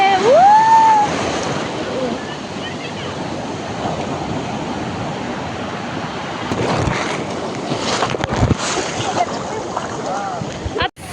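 Ocean waves and surf wash steadily at a beach in Puri, Odisha, with wind buffeting the microphone, and voices of people bathing occasionally come through over the water.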